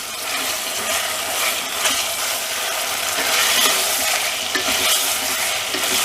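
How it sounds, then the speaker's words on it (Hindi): Chicken pieces with green capsicum being stirred and fried in a pan, a steady close sizzle with scraping and clattering stirring throughout, no talk. "तीन से 4 मिनट तक चिकन को हम इसमें भून लेंगे"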